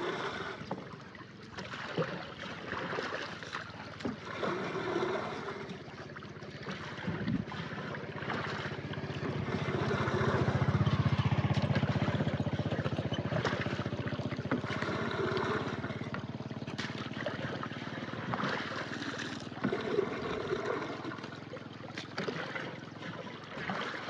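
Water running steadily into a drum being filled to the brim while mixing a potash fertilizer solution for onions outdoors, a continuous rushing wash with a broad swell in the middle, no talk.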